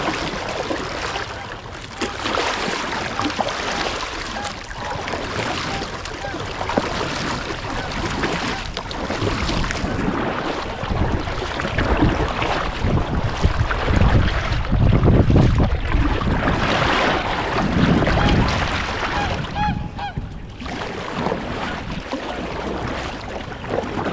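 A Quest Crosswater 100 kayak, a narrow 31-inch-wide boat, is paddled across open water. Continuous splashing and water wash runs under heavy wind buffeting on the microphone, with no voices.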